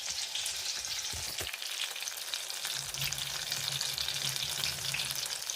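Breaded banana balls fry in hot oil, a loud, dense, steady sizzle up close with a couple of brief stirring clunks early on and no voices.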